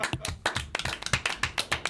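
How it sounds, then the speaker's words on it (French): A studio audience claps for the founder of a fashion modelling agency in Guadeloupe, with a brief burst of close, crisp claps in a quick irregular rhythm. "On l'applaudit."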